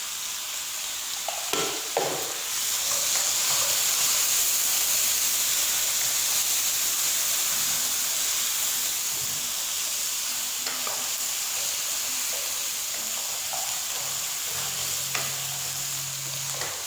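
Beef karahi fries in a pan with finely ground garam masala and salt, giving a steady loud sizzle and hiss that runs throughout, with occasional stirring scrapes and clinks over it.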